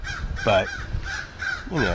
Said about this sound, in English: excuse the birds in the back there.